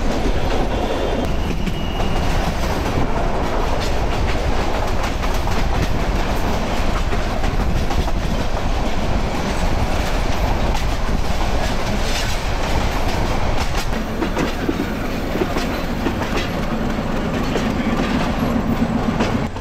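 The Hawr Express night train rolls steadily out of Dhaka, loud and close from inside, with continuous rumble and rhythmic clickety-clack of wheels over rail joints and a faint squeal near the end.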